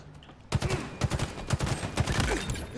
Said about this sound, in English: You can see me shoot him in the leg a couple times